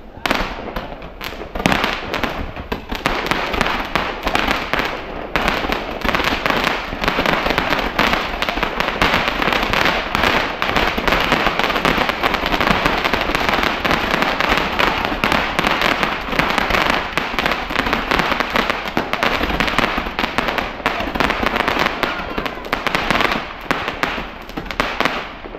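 Dense, continuous barrage of fireworks and firecrackers for Chinese New Year, loud crackling bursts rattling nonstop with overlapping pops and booms, people's voices faintly mixed beneath.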